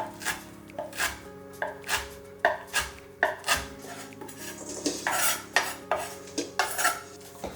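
A kitchen knife chops cabbage and shrimp for gyoza filling on a cutting board, sharp close knocks landing in an uneven rhythm of about a dozen strikes with no talk over them.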